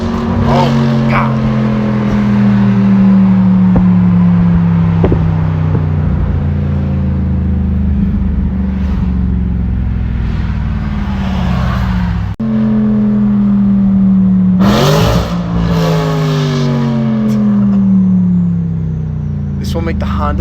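A V8 Audi RS5 engine rumbles loud and close, its deep note rising and falling through two long revving sweeps with a brief drop in between, while a voice talks over it at times.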